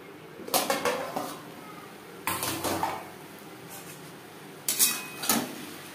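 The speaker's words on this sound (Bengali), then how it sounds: "ঢাকনা চাপা দিয়ে 4-5 মিনিট রান্না করব" A metal lid handled over a pan of okra cooking on low flame; four separate clanks and rattles of metal on metal sound close and sharp, with quiet gaps between them.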